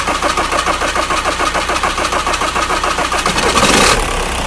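A VW Audi 1.9 TDI 110hp diesel engine chugs loudly with a pulsing rhythm, stops briefly, then cranks and restarts with a sharp surge near the end, close and without talk.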